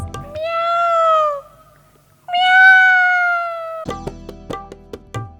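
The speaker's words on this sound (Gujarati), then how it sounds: "મ્યાઉ મ્યાઉ બિલાડી" A cat gives two long, drawn-out meows close by, separated by a pause, followed by a few sharp clattering knocks, within a Gujarati children's rhyme.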